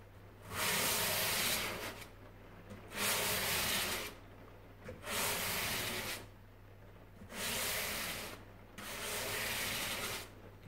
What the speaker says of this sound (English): sanding paper grain 600. and I'm just going to go over the fretboard a couple of times